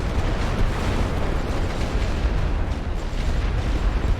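Light artillery fire in the World War I strategy game The Great War: Western Front, heard as a continuous, dense rumble of distant booms and blasts rolling together with no clear gaps between them.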